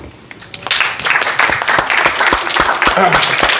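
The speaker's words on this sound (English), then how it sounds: "Applause for you." Conference audience at an AI bootcamp event applauds, clapping building up quickly from a few hands into a steady, lively round that continues close by, with a voice briefly heard beneath it.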